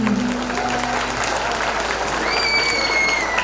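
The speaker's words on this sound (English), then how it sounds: "Let's give a big round of applause for the last beating of the gong" Crowd applause at a silver jubilee celebration marking the final strike of the jubilee gong, a steady clapping wash with faint tonal ringing and a voice briefly over it.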